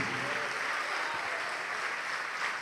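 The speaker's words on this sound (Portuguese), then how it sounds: "E vamos aplaudir mais," A church congregation applauds during a Portuguese-language service, a continuous, even wash of clapping from a large crowd held at a moderate level throughout.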